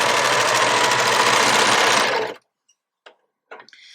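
An overlocker sewing machine stitches a T-shirt seam in a loud, rapid, continuous whir for about two seconds, then stops abruptly, leaving only a few faint clicks and small handling noises.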